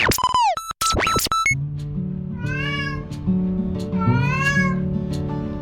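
Cats at a cat shelter in Normandy meow loudly and close, rising and falling cries over a steady low hum, with a few sharp electronic bleeps at the start.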